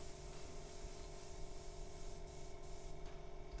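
An airbrush spraying Auto Air Colors paint, used straight from the bottle at a large scale, gives off a soft continuous hiss of compressed air, faint and steady throughout with slight pulsing.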